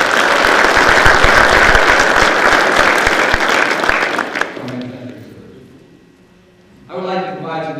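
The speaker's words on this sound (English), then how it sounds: "Please give them a round of applause." Loud, sustained audience applause for veterans at a graduation ceremony fills the room, then fades away to near silence before a voice begins speaking.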